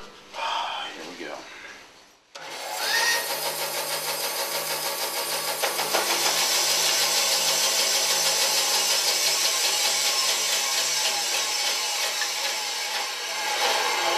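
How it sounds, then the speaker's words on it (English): Saw cutting through a piece of ebony in a woodworking shop, a steady loud grinding whine running continuously for most of the stretch after a brief quiet start. "I'm going to cut this piece of ebony now"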